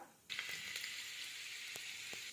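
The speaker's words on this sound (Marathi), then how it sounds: "तेल गरम झाल्यानंतर त्यात जिरे टाकायचं।" Cumin seeds and garlic sizzle in hot oil, a faint, even crackle that starts suddenly. A few light clicks rise above the hiss.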